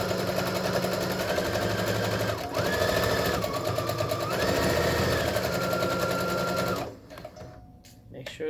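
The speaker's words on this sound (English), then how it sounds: "let's pull those needles out. You don't want to break your needle. Okay, sew this together." Sewing machine stitching a sleeve seam, a fast continuous motor whir and needle chatter with slight pitch changes, running about seven seconds before stopping, with light handling noises after.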